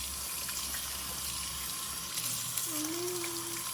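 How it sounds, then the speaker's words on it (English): Water runs steadily from a tap as soap bubbles are rinsed off toys, a soft, even hiss that continues throughout at moderate distance. "rinse the bubbles gently so they don't splash everywhere"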